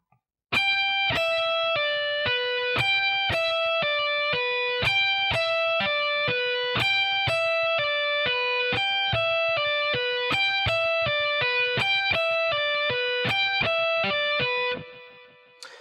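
Metal pentatonic lick played at a slow tempo on a distorted electric guitar, a steady stream of evenly picked notes repeating the same shape for about fourteen seconds, loud and alone before a sudden stop.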